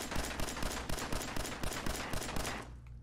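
Rapid automatic gunfire in the Fallout 4 VR video game, a steady burst of about a dozen evenly spaced close shots that ends abruptly, with no talking.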